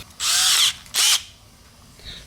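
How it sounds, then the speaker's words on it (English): Power screwdriver driving a grip stud into a dirt bike tire: two short whirring bursts, the first longer, close up and loud, followed by quiet. "So that tool, just chuck it up in a screwdriver"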